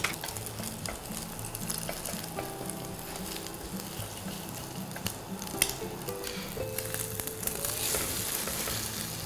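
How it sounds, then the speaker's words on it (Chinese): A breakfast sandwich dipped in egg batter fries in an oiled pan, giving a steady close sizzle and crackle with occasional scraping and stirring noises and no talking. "三明治直接放入锅中。"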